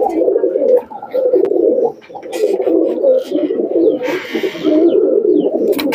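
Several Nildumba pigeons coo close by in steady, overlapping low murmurs that run almost without break, with brief dips and a soft rustle near the middle.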